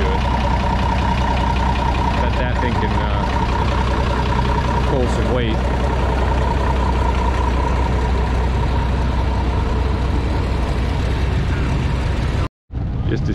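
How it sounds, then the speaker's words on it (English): A Minneapolis Moline tractor engine runs steadily at a steam and engine show, holding a loud, even low drone throughout while someone talks over it close to the recorder. "It's a nice looking tractor. It sounds really good."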